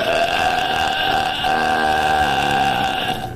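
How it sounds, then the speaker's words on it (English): A girl burps loudly and at length, one sustained, close, throaty belch that fills the whole moment, with no talking over it. "She's got some meaty burps there."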